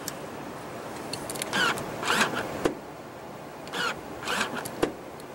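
Power folding rear seats in a 2015 Mercedes-Benz GL350 diesel SUV whir as motors drive them, making short rising mechanical bursts in two pairs with quiet cabin pauses and a soft clunk between.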